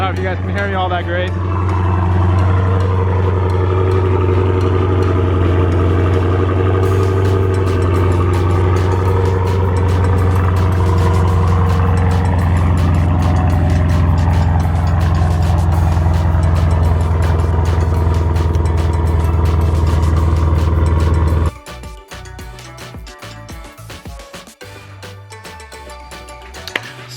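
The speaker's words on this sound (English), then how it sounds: "let's go ahead and start her up" A Dodge Hellcat engine runs at a deep, loud, steady idle close by for most of the time, then cuts to a quieter stretch with clicks and handling noises.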